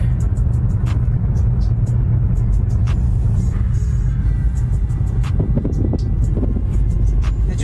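A car climbing a mountain road toward Gurudongmar Lake, its engine a loud steady rumble heard from inside the cabin, with wind buffeting and occasional clicks and rattles throughout.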